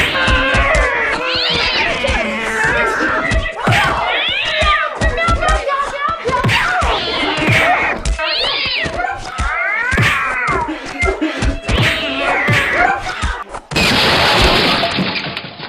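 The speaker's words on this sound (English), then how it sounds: "that cat fight's going on outside" Cats yowl and caterwaul in a loud outdoor fight, long wavering howls rising and falling one after another, ending in a brief burst of harsh noise.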